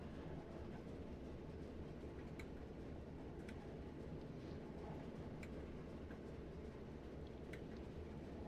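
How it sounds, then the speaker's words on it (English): A train in the video game Just Trains WCML rumbles past on the Crewe to Preston route, a steady, dense low roar with faint rail clicks throughout and no talk. "we've got another train coming down here"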